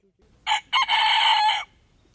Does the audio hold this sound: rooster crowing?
yes